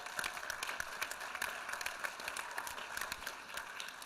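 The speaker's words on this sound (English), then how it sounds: "I think we should give a round of applause to Occupy." An audience gives a round of applause at a panel on building a blue-green movement, a faint, distant wash of many hands clapping steadily with no speech over it.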